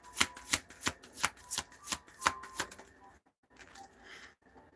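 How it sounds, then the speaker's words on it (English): Tarot cards are riffled and shuffled in a quick, steady rhythm of crisp flutters close to the mic, then a brief pause and softer card handling at the end. "Shuffle."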